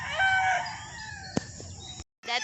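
A Rhode Island rooster crows in a long, loud, ringing call close by, with a sharp click partway through; the crow cuts off abruptly and then starts again.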